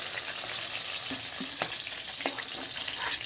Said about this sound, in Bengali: বোয়াল মাছ বেশি কড়ক ভাজলে বোয়াল মাছের স্বাদ লাগে না, হালকাই ভাজা লাগে